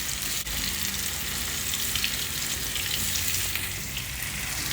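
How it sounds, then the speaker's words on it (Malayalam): Raw plantain pieces frying in hot coconut oil give a steady, dense sizzle with a fine crackle, close and even throughout with no voices. "എണ്ണയൊന്ന് ചൂടായിട്ട് നമുക്ക് ഈ പച്ചക്കായുടെ കഷ്ണങ്ങളൊക്കെ ഇല്ലേ,"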